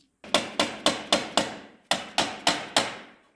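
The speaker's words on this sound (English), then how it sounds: "so you got to hit them with the hammer gently." Hammer gently tapping a distributor on a 1980s–1990s Subaru 1.8 engine during timing belt work: nine sharp, evenly spaced metallic knocks in two groups of five and four, close and fairly loud with no talk.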